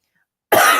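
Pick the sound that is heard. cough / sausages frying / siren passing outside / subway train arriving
cough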